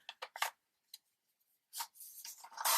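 A craft blade cuts through paper in short, quiet scraping strokes, a few quick bursts at first, then a longer rasping cut, close by with silence between.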